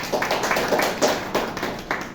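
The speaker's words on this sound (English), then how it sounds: "with a huge round of applause" Audience applause at a Toastmasters club meeting, a small group clapping in a sparse, uneven rhythm with distinct individual claps, close and moderately loud.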